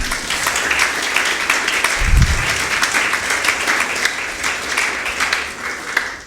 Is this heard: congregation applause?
yes